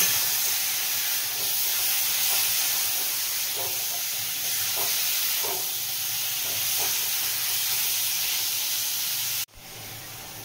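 Chicken pieces frying in garlic butter in a pan, giving a steady loud hiss and sizzle throughout with faint stirring clicks, cutting off abruptly near the end.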